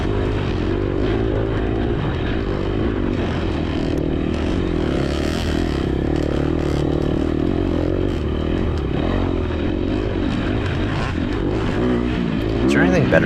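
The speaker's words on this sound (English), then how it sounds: "Is there anything better than riding dirt bikes in the woods?" A KTM SXF dirt bike rides slippery, leaf-covered singletrack in the woods. The engine drones steadily and close throughout, with light clatter and scraping mixed in.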